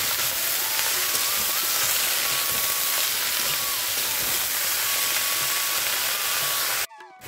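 Chopped, washed pea greens hit cumin seeds frying in hot oil, giving a loud, continuous hiss of sizzling that holds steady before cutting off abruptly near the end.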